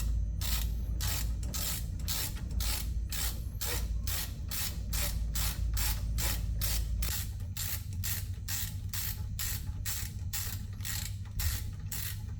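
A ratchet wrench tightening the brake caliper slide bolts on a Chevy/GMC van, with a long, steady run of close, evenly spaced clicks.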